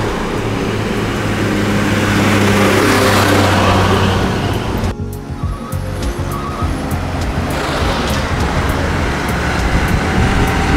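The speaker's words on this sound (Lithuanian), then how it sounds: "Yra čia rimtesnė fūra." A heavy truck roars past close by on a road on the outskirts of Palembang, Sumatra, loud and sustained, with the rumble dipping briefly before other traffic noise builds again.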